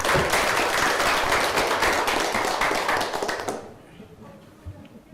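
A classroom group gives applause for a presenting team, dense clapping from many hands for about three seconds, then fading out into a quiet room with a few faint taps.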